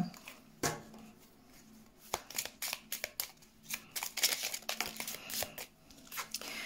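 Oracle cards are shuffled for a card reading, giving irregular bursts of crisp riffling and slapping close by, in quick uneven clusters with short pauses between them.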